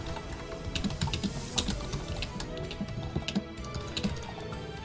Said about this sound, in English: And you can hear Born furiously typing into the chat.